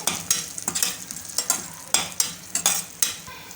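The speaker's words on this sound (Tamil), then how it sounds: "எல்லாமே நெய்யிலே தாளித்து ரெடியாகட்டும்" Spices crackle and sizzle as they temper in hot ghee with a pinch of asafoetida, a close, dry spitting broken by sharp pops and stirring scrapes, with no voices.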